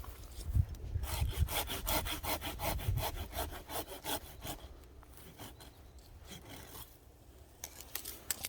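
A handsaw cuts through a pine tree branch during pruning, in quick, rasping back-and-forth strokes that are close and loud, then slower and softer strokes toward the end.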